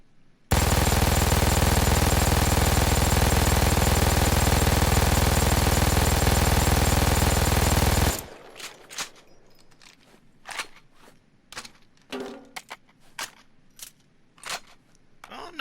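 An MG-42 machine gun in the video game Payday 2 rattles out one loud, continuous burst of rapid fire for about eight seconds, then stops abruptly and leaves scattered quieter clicks and thuds.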